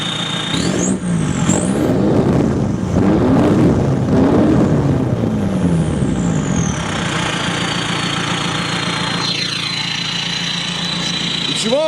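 A BMW E46 with a full straight-pipe exhaust barks through several sharp revs, then settles into a choppy, throbbing helicopter-like idle, loud and close, with a voice briefly heard.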